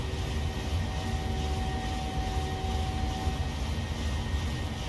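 Jet engines of a PMDG Boeing 737 in a flight simulator game hold climb thrust after takeoff, a steady, even roar with a thin whine running underneath and no speech.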